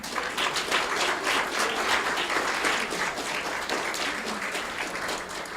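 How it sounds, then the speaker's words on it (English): Sustained audience applause for a community orchestra chamber ensemble fills the room, a steady, even wash of many hands clapping at moderate volume with no voices over it. "Another round of applause."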